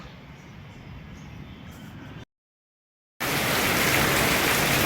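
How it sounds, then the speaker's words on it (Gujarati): Rain hisses steadily, breaks off to silence for about a second, then resumes louder and denser. "જો વરસાદ ચાલુ થઈ ગયો છે"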